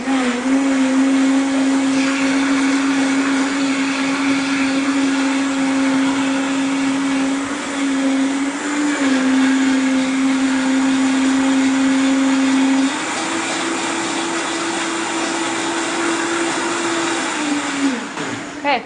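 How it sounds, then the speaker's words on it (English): A Vitamix blender runs continuously on a greens smoothie, a loud, steady motor whine close by that shifts pitch partway through and winds down near the end, with faint speech beneath. "the beautiful thing about a Vitamix is it'll blend anything up into a liquid"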